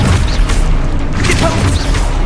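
An Expulso explosion spell cast in Hogwarts Legacy goes off as a loud, sustained booming blast with rumbling bursts, filling the whole moment.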